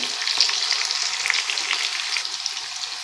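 Ivy gourd (dondakaya) pieces fry steadily in hot oil, giving a dense, even crackling sizzle that stays close and loud for the whole stretch, with no voices.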